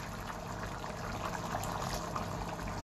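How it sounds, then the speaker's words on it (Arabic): Water poured into a pot of spinach cooking with meat, a steady broadband rush and bubbling that runs evenly for a few seconds at moderate loudness with no talk, then cuts off. "وهننزل بالماء"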